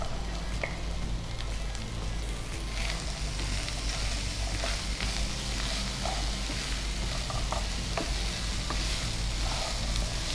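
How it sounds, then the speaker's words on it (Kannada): Chickpeas sizzling in a hot pan, a dense continuous close frying crackle like rain on a surface, with light stirring scrapes throughout and no speech. "ಈಗ ಕಡಲೆ ಹಾಕ್ತೇನೆ."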